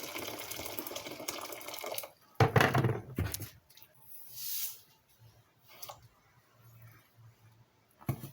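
Water gushes from a tap into a cooking pot for about two seconds, followed by quieter sloshing, clinks and trickling.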